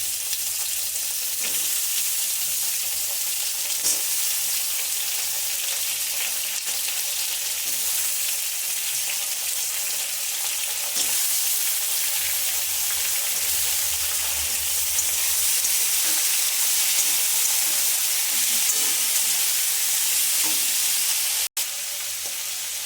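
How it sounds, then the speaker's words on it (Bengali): Mixed winter vegetables, including cauliflower stalks and cabbage, fry in hot oil in a pan with a loud, continuous sizzle and occasional stirring taps, no voices. "সবজিগুলো একটা একটা করে ভেজে নেব।"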